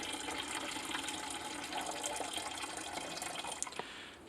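A 6-ounce cup of liquid is poured into a container, producing a steady soft splashing stream for a few seconds that tapers off at the end, faint and close, with no voices.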